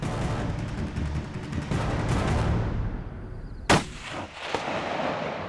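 A single rifle shot cracks out during an aoudad sheep hunt in Texas, loud and sharp after a stretch of steady wind noise, followed by a brief echoing tail and a smaller thump.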